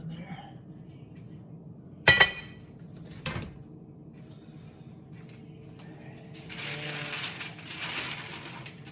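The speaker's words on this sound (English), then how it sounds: "I can place it in the Dutch oven here" Clinks and knocks of a heavy Dutch oven being handled while sourdough bread dough is placed inside: two sharp metallic bangs early on, then softer rustling and scraping, heard close up with no talking.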